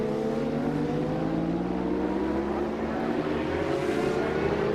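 Superbike racing motorcycles stream past through a right-hand bend at Manfield in 1990, as a steady, continuous engine drone with rising pitch that stays loud throughout.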